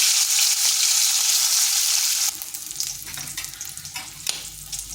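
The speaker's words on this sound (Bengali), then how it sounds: "ডিমগুলোকে ভেজে নিচ্ছি।" Eggs fry in hot oil in a wok, a loud close sizzle that drops suddenly partway through to a softer crackle with occasional spatters and stirring clinks.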